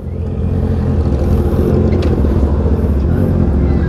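A custom-built Honda CB650R motorcycle rides along with a loud, continuous, close engine rumble and a steady drone throughout, with no talk.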